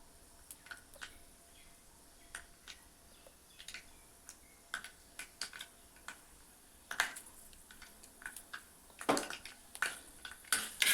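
Mustard seeds pop and splutter in hot oil in a home kitchen while mango thokku is being made, sparse sharp crackles at first that grow quicker and louder toward the end, with no voices.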